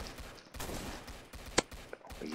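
A beam launcher weapon firing in the Roblox game Zombie Attack gives quick, repeated blasting bursts, fairly faint overall, with one sharper crack in the middle.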